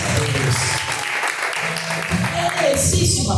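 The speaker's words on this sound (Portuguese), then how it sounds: "Recebe palmas," Congregation applause during a live church service, a broad steady wash of clapping mixed with voices and some music, filling the whole moment at fairly even loudness.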